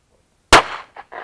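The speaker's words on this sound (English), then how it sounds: "Noah, shoot the pink target." A single loud, sharp gunshot at a pink target outdoors, a close crack with a short decaying tail, then brief faint voice-like sounds.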